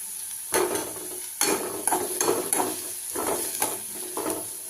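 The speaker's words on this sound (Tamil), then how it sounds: "ஸோ அது வெங்காயத்தை வதக்கலாம்." Chopped onion with a few curry leaves sautés in a hot pan for a Tamil ragi bun dosa, with a soft steady sizzle broken by several sharp scraping bursts of stirring, close and alone.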